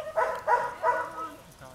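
A dog barks during protection training at a working-dog trial, three loud, close barks in steady rhythm with a fainter fourth, alone without talk.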